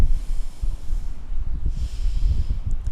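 Breath exhaled during a whole-body morning exercise routine, a close, loud breathy rush with snort-like pulses that continues through the whole stretch.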